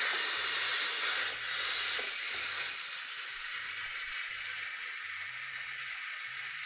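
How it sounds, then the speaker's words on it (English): Steam escaping a pressure cooker through a diverter tube: a steady, loud, close hiss that holds for the full stretch, swelling a little briefly before settling, with no talk. "So we're just gonna release the steam."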